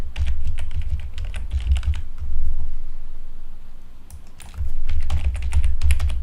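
Quick bursts of keystrokes as a password is typed on a computer keyboard while setting up an Oracle database connection in SQL Developer, close and clear, with a short pause between two clusters of typing.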